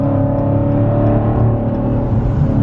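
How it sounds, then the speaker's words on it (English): A V8 car engine with a muffler delete revs and holds a loud, steady, deep rumble close by, with no talking throughout. "when I hit the gas, I want you to know that this thing is a V8"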